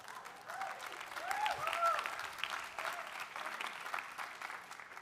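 An audience at Harvard College Class Day claps steadily, a warm wave of applause from a sizable crowd with a few faint voices and whoops mixed in.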